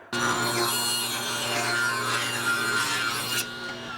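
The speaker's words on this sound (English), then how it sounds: "I'm going to cut some narrow strips here" Narrow maple strips, about 3/8 inch, being ripped for a maple-and-walnut cutting board, a steady loud saw whine with rough rasping cut texture running continuously for several seconds before abruptly stopping, no talking.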